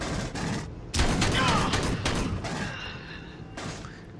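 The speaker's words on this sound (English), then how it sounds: "Close range shotgun." Close-range shotgun blasts from the Aliens: Colonial Marines video game, a cluster of loud booming shots in quick succession, each with a sharp attack and a rumbling decay, followed by quieter game sounds.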